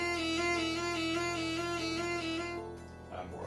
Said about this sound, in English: So a trill may sound a little bit like this.